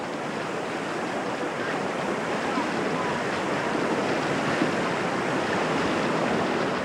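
Rushing water of Tohican Creek in flood pours in a dense, loud, continuous roar that stays steady from start to finish with no voices heard.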